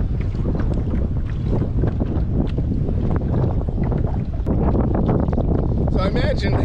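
Strong wind buffets the microphone in constant rough gusts while kayak fishing, with water sloshing beneath and a voice speaking briefly under the roar.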